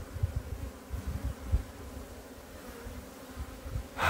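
Native Korean honeybees drone in a low, continuous buzz during an inspection of their hive, with nearby individual bees fading in and out and a brief louder rustle at the end.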